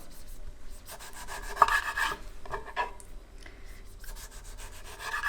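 A knife slicing small tomatoes into rounds on a board, a few soft close cutting and scraping strokes in irregular bursts, fairly quiet with no talk.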